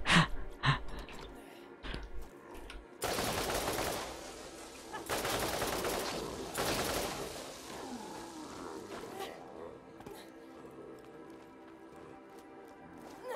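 Gunfire in the Borderlands video game: rapid bursts of shots at the start, then dense sustained automatic fire mid-clip, tapering into quieter ambient game sounds.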